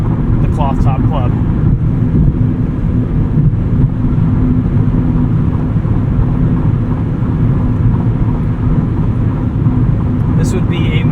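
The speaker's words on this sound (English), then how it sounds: "At speed, a little bit of noise from those tires, but wind noise is much reduced from the cloth top club." Inside a 2024 Mazda MX-5 Miata RF Club with its hardtop at speed, a steady loud low rumble of tire roar and muted wind noise continues throughout, while a voice speaks over it.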